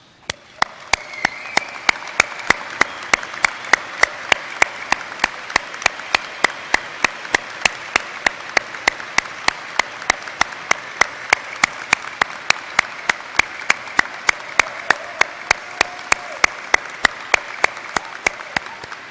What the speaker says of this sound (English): ask all the graduates to turn around and show our appreciation of moms by giving them a heartfelt round of applause